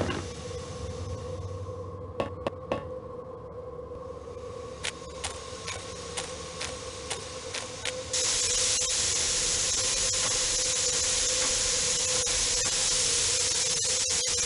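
Steam escaping with a hiss in the Murder on the Orient Express video game, a steady loud hiss that swells after several sharp clicks, over a low hum.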